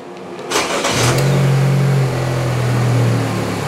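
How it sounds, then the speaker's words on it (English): A GM 1.4-liter GDI engine on a training bench cranks and fires up, a brief starter whir followed by a loud, steady idle with a slight rev rise partway through. "Let's start the engine."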